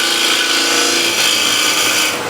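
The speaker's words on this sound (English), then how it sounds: "move away from the foot with shear scrape right to the bottom" Steady, continuous shear scraping of wood with a hand tool as a foot section is shaped down to the bottom, a dense rasping hiss that holds close and even throughout with no talk.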